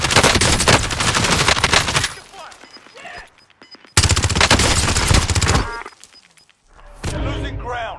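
Heavy automatic gunfire from the Call of Duty Warzone video game, loud bursts of rapid shots in two long volleys with a quieter gap between, ending in more gunfire mixed with game sound.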